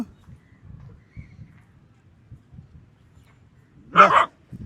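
One sharp bark comes from a street dog being fed chicken, near the end after quiet shuffling and soft eating sounds.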